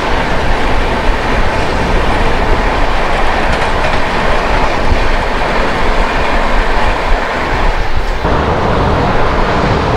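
The Kanyakumari–Dibrugarh Vivek Express rolls past at close range in a loud, continuous roar of wheels and carriages with faint clattering, and no voices are heard.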